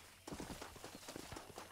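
Horse hooves clip-clop in a quick, uneven trot in Red Dead Redemption 2, close and fairly loud, with no speech over them.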